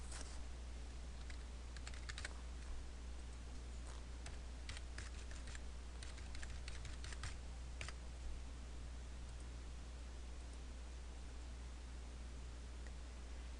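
Keystrokes from a computer keyboard as data is typed into a management software form, coming in irregular bursts over a steady low hum, with no voices.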